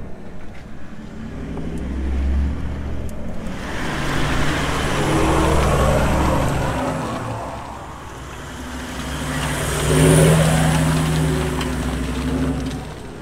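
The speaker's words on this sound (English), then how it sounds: "Four-wheeling at night is epic in areas like this with tall trees, big dense forest" A four-wheel drive vehicle drives at night through dense, tall forest on Australia's east coast, its engine rumbling and swelling as it revs up and eases off twice, fairly loud and close, with no talking.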